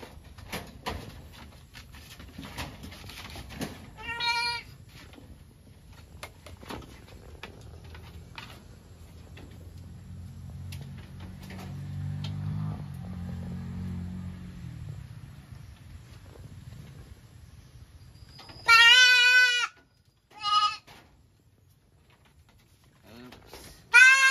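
A small goat bleats in short, wavering cries, once early and then twice loudly near the end, over outdoor wind and handling noise.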